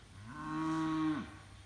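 A single low moo from cattle near a pond, a drawn-out call that rises and fades over about a second, fairly faint and slightly distant against quiet outdoor ambience.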